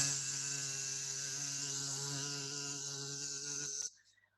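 Loud, sustained droning buzz of wasps close by, holding steady before cutting off abruptly near the end.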